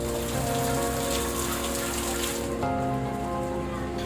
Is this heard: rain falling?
yes